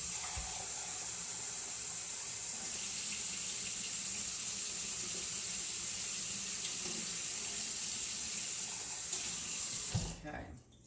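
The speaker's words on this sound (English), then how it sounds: "Okay, and then another cup of water." Tap water runs steadily into a cup for a vinegar pickling brine, a constant hissing splash filling the whole stretch before cutting off abruptly near the end.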